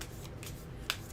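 A monster card deck is shuffled close by in soft, steady papery swishes, with one sharper snap of cards near the end.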